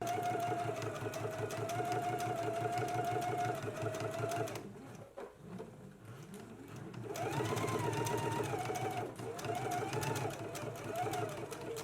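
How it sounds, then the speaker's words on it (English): Sewing machine stitching a seam on a jacket, with back stitching at the start and end: a steady, close, rapid whirring run, a pause of about two seconds in the middle, then more stitching with a changing pace. "starting at the large dot, I'm going to stitch all the way down to the other dot, back stitching at the beginning and at the end"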